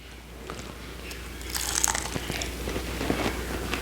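Someone bites into a crunchy, crusty keto sausage ball, producing a few close crisp crunches followed by softer chewing in a quiet room.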